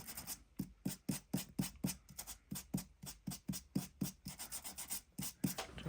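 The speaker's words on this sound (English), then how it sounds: "do a little bit of sanding." Rhythmic sanding strokes, a quick, even series of raspy swipes repeating about three times a second, close and fairly soft, with no voices.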